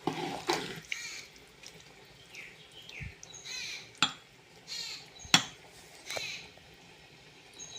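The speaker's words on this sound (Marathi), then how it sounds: "थोडंसं गरम पाणी करून घ्यायचं आणि टाकायचं." Hot water poured into a pan of village-style mushroom curry, giving brief splashing and trickling with clinks of a pot and utensil, close up in a home kitchen with sparse pauses between sounds.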